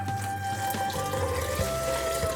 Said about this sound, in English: Adding 4-5 cup of water, almost 1 liter.